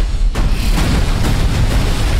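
A loud, rumbling explosion-like boom with broadband crackle and repeated low thumps, sustained for a couple of seconds.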